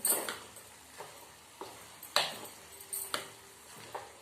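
Mustard seeds and cumin tempering in hot oil in a pan: soft sizzling with scattered sharp pops and ticks at irregular intervals, close and fairly quiet, no talking.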